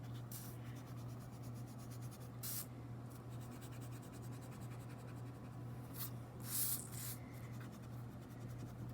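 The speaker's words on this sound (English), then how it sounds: "take an eraser and get rid of these extra guidelines" An eraser rubs out pencil guidelines on paper in scratchy bursts that come and go, with a steady low hum underneath and no talking.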